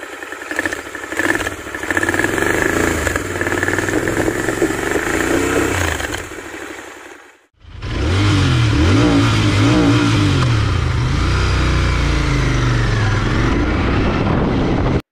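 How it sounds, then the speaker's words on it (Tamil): A Royal Enfield Continental GT 650 BS6 motorcycle's exhaust idles and revs up loudly, then cuts out briefly before firing back into a deep, throbbing idle with further revs, close and alone. "நெக்ஸ்ட் இந்த பைக்கோட எக்ஸாஸ்ட் நோட் கேட்கலாம்."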